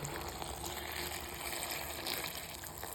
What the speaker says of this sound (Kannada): ಈಗ ಅದಕ್ಕೆ ಸ್ವಲ್ಪ ಬೆಚ್ಚಗಿರೋ ನೀರು ಹಾಕಿ ಚೆನ್ನಾಗಿ ತೊಳ್ಕೋಬೇಕು